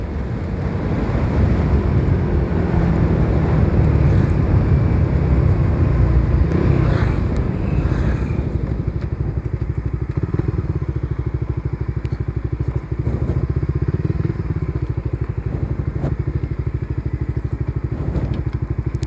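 A motorcycle runs fast on a hot Sunday ride, its engine a steady close roar blended with heavy rushing wind across the microphone.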